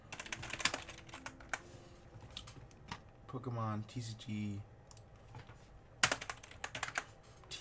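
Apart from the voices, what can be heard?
typing on a computer keyboard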